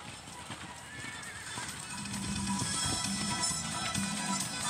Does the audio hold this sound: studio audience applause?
no